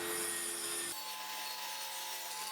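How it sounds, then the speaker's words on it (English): A plywood piece being sawn for a homemade tilting fence on a cheap jointer-planer combo; a steady, close, continuous cutting sound that shifts in tone about a second in. "I cut the first plywood piece"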